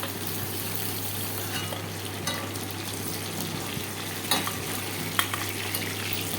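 Continuous hiss and crackle of chicken meatballs frying in hot oil, with occasional soft scrapes of a spoon stirring in the pan.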